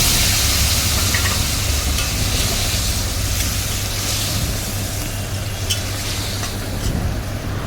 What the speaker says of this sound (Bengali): আবার মশলাটা দিয়ে কিছুক্ষণ সময় ধরে আলু আর বেগুনটাকে আবার একটু ভালোভাবে ফ্রাই করে নেব।